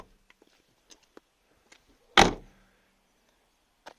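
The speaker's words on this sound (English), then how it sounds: "Yeah, the doors close decently" A Fiat Punto 75 ELX car door shuts with a single solid thunk, close and loud, among faint scattered clicks and rustles in a quiet setting.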